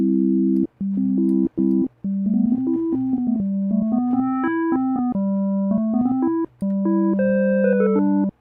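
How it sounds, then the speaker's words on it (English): A Yamaha DX7 FM synth patch with a 2-to-1 modulator-to-carrier ratio gives a buzzy, reedy tone, played as a melody of held notes with short gaps that climbs higher toward the end, clean and isolated. "Right here, it sounds reedy."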